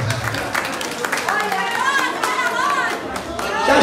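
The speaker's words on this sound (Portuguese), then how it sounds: "Salve de palmas para o menino" Scattered clapping and crowd chatter at a village carnival costume contest, with lively talking from people over the brief, busy applause.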